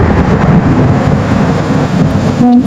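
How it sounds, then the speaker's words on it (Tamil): Heavy rain pours down with thunder rumbling through it, a loud, dense, continuous hiss over a deep low roll, heard alone without voices. "மழை வேகமா பெஞ்சிட்டு இருக்கு."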